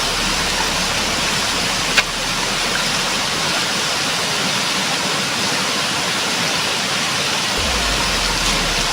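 Strong water pours and rushes at a warm spring, a steady dense roar with no voices over it.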